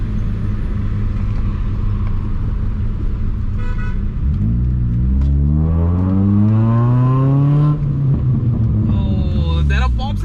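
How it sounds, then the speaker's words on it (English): A modified old Hyundai sedan's exhaust drones loudly and climbs in pitch as it accelerates onto a highway, with engine rumble filling the cabin. "Oh, there are pops and bangs too"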